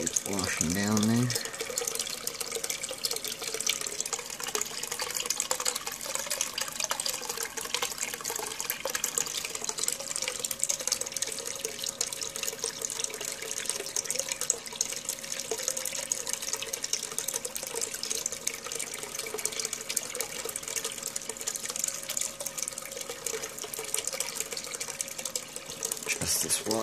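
Water flows steadily through a Dirt Hogg paydirt washing setup, a continuous close rushing and splashing that runs without break for the whole stretch.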